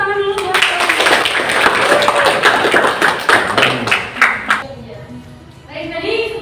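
An audience claps after a group presentation in a classroom, a dense burst of applause for several seconds that thins into scattered claps, with people talking around it.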